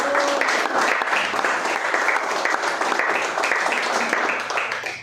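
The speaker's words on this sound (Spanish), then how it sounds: "vamos a dar un fuerte aplauso a las mamitas y papitos y hombres que estuvieron" Steady audience applause at a school cultural event, continuous clapping from a crowd that holds evenly before tapering slightly at the end, with faint voices mixed in.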